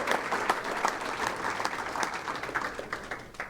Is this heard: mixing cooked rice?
no